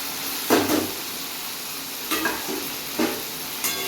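Fried potatoes are stirred into spiced masala in a pan for papad aloo curry. A soft steady sizzle is broken by four brief spatula scrapes and knocks.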